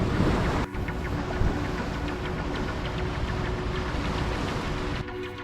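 Steady ocean wind and wave wash surround a sailboat approaching an anchorage after crossing the Bay of Biscay, a dense continuous rush with brief dips, no voices.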